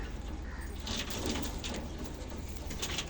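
Malbai pigeons coo softly while being held in hand, low repeated throaty calls over a constant background hum, with no talking.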